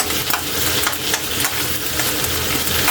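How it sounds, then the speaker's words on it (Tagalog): Onions sauté and are stirred in a hot pan for sotanghon guisado. A close, dense sizzle carries on throughout with rhythmic scraping strokes. "Yan lang natin maluto yung sibuyas natin bago natin siya ihalo"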